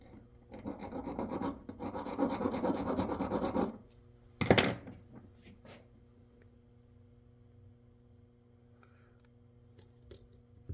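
A hand file rasps on the end gap of a piston ring for a 2019 KTM 300 XC-W Six Days dirt bike, with quick close strokes for several seconds, then a sharp metallic clink and faint handling noises.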